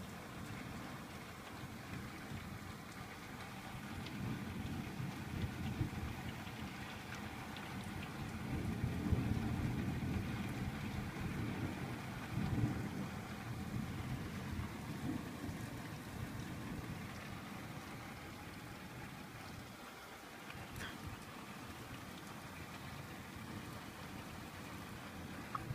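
Heavy rain pours steadily during a severe UK thunderstorm, a dense continuous hiss with a low rumbling swell midway, close and loud throughout with no voices.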